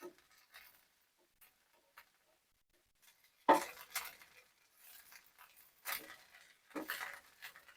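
Leftover masala idli fries quietly in a pan, mostly near-silent with faint crackle, then a few louder scraping turns and clatters of a spatula as the pieces are flipped.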